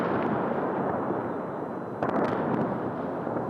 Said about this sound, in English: the explosions, the attacks.